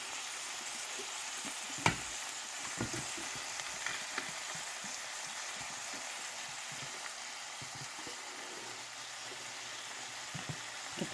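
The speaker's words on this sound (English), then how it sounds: "We're going to stir this around, and we're going to let it come up to temperature" Canned Manwich sloppy joe sauce heating in a hot pan, a soft continuous sizzle with occasional light stirring clicks and scrapes, faint and steady without any talking.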